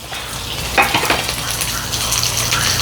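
Chopped large onion and dried red chillies tempering in hot oil for Tamil-style crab rasam, a steady close sizzle and crackle with a few stirring scrapes, no talk.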